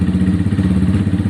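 A Honda CBF 125 motorcycle idles steadily just after its first start-up, a loud, close, even low engine chug with a rhythmic exhaust pulse running unbroken throughout.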